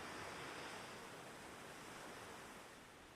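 Ocean waves wash steadily against the shore by the sea, a continuous broadband surf rush that stays loud and even for the whole stretch before easing slightly toward the end, with no voices.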